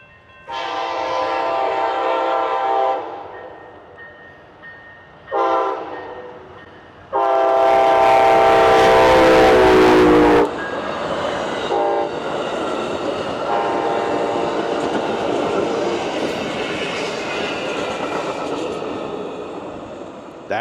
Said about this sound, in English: I get a little bit of choo-choo train action going on.